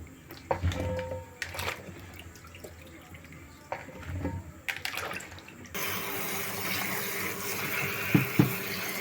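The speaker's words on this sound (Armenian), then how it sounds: "Հիմա մի լավ լվանամ հոսող ջրի տակ" Okra fresh from a salt-water soak is handled with a few scattered knocks and rustles, then tap water starts running over it in a steady, continuous rush that fills the rest of the clip.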